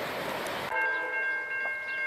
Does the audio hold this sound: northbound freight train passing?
yes